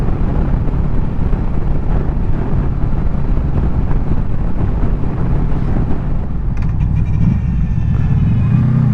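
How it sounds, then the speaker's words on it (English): Motorcycle exhaust while riding on the road, a continuous loud rumbling drone mixed with heavy wind buffeting on the microphone, steady throughout. "this exhaust sounds gorgeous now. Listen if you can."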